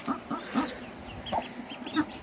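Small farm chicks, both ducklings and chicken chicks, cheep in a village yard, a scatter of short high peeps and soft clucks repeating irregularly at close range with no talking.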